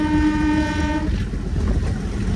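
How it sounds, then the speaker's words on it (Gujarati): A train runs through forest on the route to Sasan. A steady horn note sounds for about a second, then fades into a continuous loud rumble of wagons rolling along the track. "આ સાસણ જવાની મજા ટ્રેનમાં એ તો વાત જ કંઈક અલગ છે"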